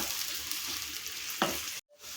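Two medium-sized onions frying in well-heated oil over a medium flame, a steady close sizzle with a brief stirring scrape, then a sudden cut to silence near the end.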